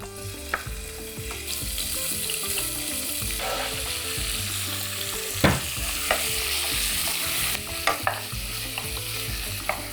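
Strips of beef tenderloin spit and sizzle in a hot pan while being stirred, a steady close frying hiss punctuated by occasional sharp clatters of the utensil.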